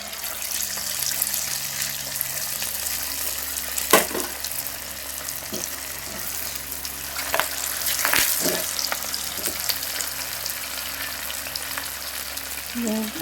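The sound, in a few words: chicken pakoda frying and popping in oil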